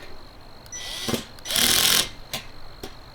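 Cordless power drill on a low torque setting driving bolts into a raised garden bed, with two short whirring bursts, the second longer and louder, and a few clicks of the clutch between them, close by.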